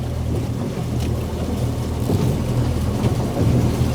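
A fishing boat engine runs at idle on open water, a steady low rumble under a wash of wind and water noise, continuous with no talk.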